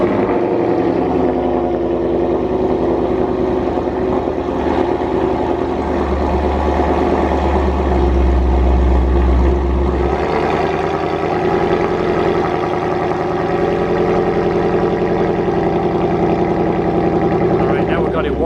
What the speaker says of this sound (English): let's go ahead and get a cold start first, see what it sounds like